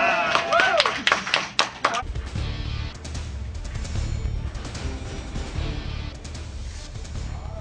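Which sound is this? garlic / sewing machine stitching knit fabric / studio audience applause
studio audience applause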